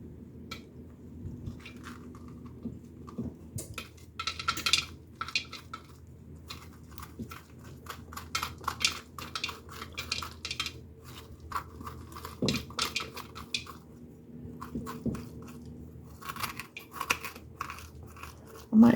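A spoon scrapes and digs through the stringy insides of a hard pumpkin, with soft wet squishes and crunchy scrapes repeating irregularly, close and fairly quiet, with occasional clinks.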